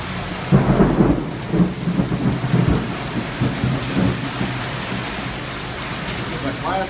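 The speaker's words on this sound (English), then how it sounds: "This is a classic Central Indiana summer squall line." A Central Indiana summer squall line at midday in Indianapolis brings steady heavy rain with low rumbling thunder rolling through, while a voice speaks faintly under the storm.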